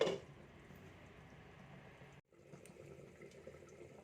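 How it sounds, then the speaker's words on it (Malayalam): Fish curry bubbling at a steady boil under a closed lid, a soft continuous simmering hiss with a brief dropout partway through, heard alone at close range. "അപ്പം നമ്മളുടെ കറി ഇവിടെ നല്ല പോലെ തിള വന്നിട്ടുണ്ട്"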